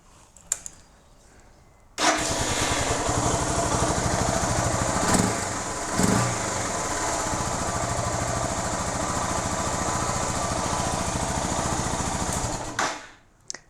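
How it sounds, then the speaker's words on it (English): A Suzuki DR650 motorcycle with its stock exhaust starts up after a few light knocks, then idles in a steady, even, moderately loud thrum for about eleven seconds before shutting off. "I'll just start it up, let you hear the stock sound so we can compare it."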